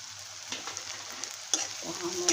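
Spices such as turmeric and homemade black masala being stirred into roasted tomato in a frying pan, with a steady oil sizzle and soft spatula scrapes; a sharper scrape lands near the end.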